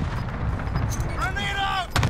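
Cluster strike explosions in a military shooter game, rumbling booms and gunfire crackle layered under a dense background, with radio-like voice chatter over the blasts.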